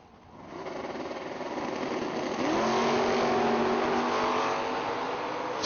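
A 1967 and a 1969 Chevrolet Camaro on a drag strip. Engines rise from quiet to a loud, sustained roar of hard acceleration that climbs in pitch and holds strong, slightly muffled, with no voices.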